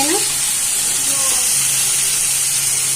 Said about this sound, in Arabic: هنا شوينا البصل وشوينا الفلفل اهو بالمنظر ده